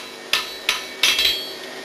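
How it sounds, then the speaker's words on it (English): Heated cast iron struck by a hammer: four close, ringing metallic blows at uneven intervals, the last two quick together, over low background hum. "Repeated heating and hammering changes the way cast iron behaves."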